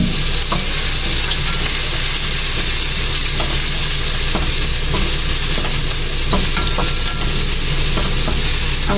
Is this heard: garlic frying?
yes